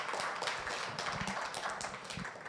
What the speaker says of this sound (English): So maybe we go one round of applause for everyone